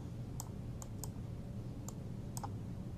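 Computer mouse clicks come through as a handful of sharp, quiet, separate taps spaced unevenly, some close together in pairs, over a low background hum.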